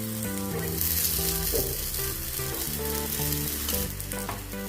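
A crispy cheela fries in oil on a pan with a steady, close sizzle, partly masked by melodic background music playing over it throughout.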